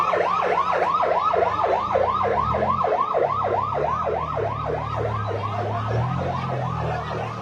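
A fire engine siren wails in fast repeating rising-and-falling cycles, loud and continuous, over a low rumble of traffic, at a market fire.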